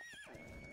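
A horse whinnies in the modded survival game Ark Survival Evolved, a single close, loud neigh with a rising then falling pitch that fills the short moment on its own.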